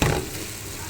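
Green chilies frying in a pan for Rayalaseema-style chicken biryani, a brief close sizzle that flares at the start and then settles into a steady hiss.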